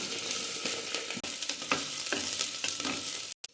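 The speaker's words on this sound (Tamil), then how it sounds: "எண்ணெய் காஞ்சதும் கடுகு சேர்த்து, கடுகு பொரிஞ்சிருச்சு. வெங்காயம் சேர்த்துக்கலாம்." Chopped onions hitting hot oil with popped mustard seeds for a drumstick gravy, a loud dense sizzle with stirring scrapes, heard alone and ending abruptly.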